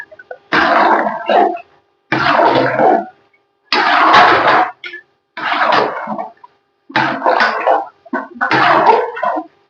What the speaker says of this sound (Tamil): பாருங்க மட்டன் வேக வச்சு தண்ணியை நான் மிக்ஸ் பண்ணிக்கிறேன் இதோட.